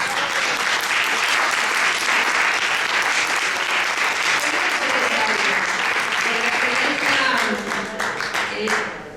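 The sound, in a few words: applause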